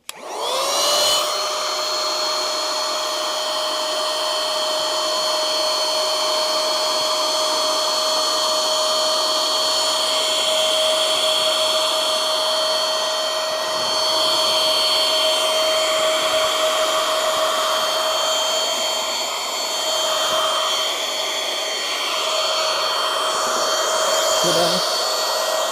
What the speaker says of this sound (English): And then I've got a little handheld vacuum cleaner.